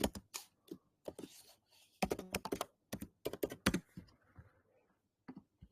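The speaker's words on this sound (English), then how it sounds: "Let me type it out." Fingers type on a computer keyboard in quick irregular bursts of close, crisp key clicks and thunks, with short pauses between runs and no talking.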